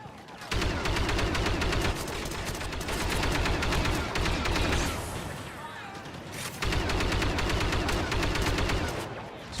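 Dense, continuous automatic gunfire in Star Wars Battlefront II, loud and rapid with repeated bursts and a brief lull in the middle, punctuated by booming impacts.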